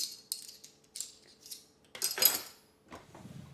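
Metal cutlery clinks and rattles in bursts as someone rummages for a tablespoon, several quick clatters spaced apart, close and moderately loud.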